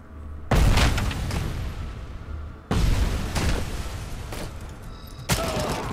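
Grenade explosions in the RoboCop: Rogue City video game: three loud, heavy booms a couple of seconds apart, each ringing out into a long rumbling tail.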